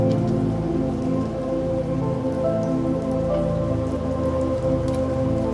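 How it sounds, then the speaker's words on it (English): Rain falling on a grey, rainy day, a steady even patter of drops on surfaces that holds constant throughout, overlaid by soft sustained tonal music, with no voices. "And then the next day is grey and rainy, as it is here today."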